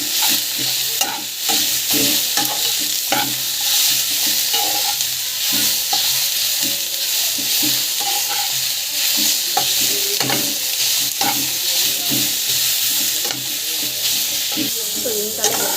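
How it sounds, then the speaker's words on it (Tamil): Coriander and mint leaves sautéing in a pan for a chutney, with steady soft sizzling and frequent scraping stirs close by throughout, no voices. "நல்லா வந்து வதக்கிக்கோங்க."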